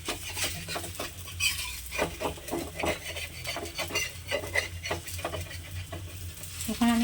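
Oil drizzled around a chapati on a hot pan over a low-to-medium gas flame, with soft sizzling and repeated scraping and clinking of a spatula against the pan, steady and close.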